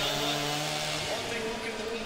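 A chainsaw cuts wood at a lumberjack timbersports championship, its high buzzing whine steady and loud for a couple of seconds while an announcer talks over it.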